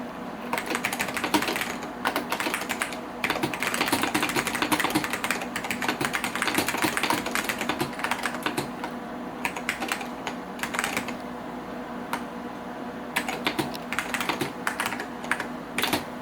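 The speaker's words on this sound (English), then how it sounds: "I'm going to type some fun things." Steady, fast typing on a Xerox 6085 Daybreak keyboard with Alps SKCM Brown switches, dense clacking keystrokes at close range with brief pauses and a low hum underneath.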